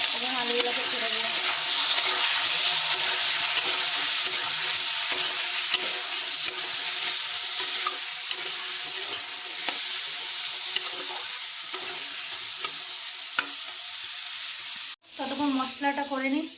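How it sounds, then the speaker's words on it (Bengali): Washed potatoes fry in a pan with a dense, steady sizzle and occasional stirring clicks. The sizzle breaks off suddenly near the end, and a brief tonal sound follows. "আলুগুলো ততক্ষণ ভাজা হোক"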